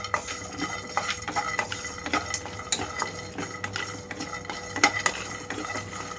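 Grated fresh coconut and spices stir-fried in a pan for a tindora masala, with a spoon scraping and clinking against the metal in an irregular rhythm over a faint sizzle.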